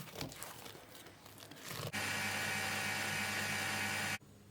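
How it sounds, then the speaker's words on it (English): A spatula scrapes around a bowl of cream being churned into homemade butter: close, rough rubbing and scraping, then a loud, steady, hissing whoosh that runs for about two seconds and stops abruptly. "So I'm just going to run a spatula around."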